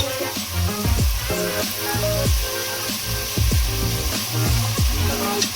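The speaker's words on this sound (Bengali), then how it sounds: "একটু ফুল ফ্লেমে দিয়ে একটুখানি ভেজে নিতে হবে, নাহলে কাঁচা সবজির গন্ধ থাকবে।" Vegetables frying in a pan over full flame, a loud continuous sizzle close up, with repeated stirring scrapes and clinks at a roughly regular pace and no talking.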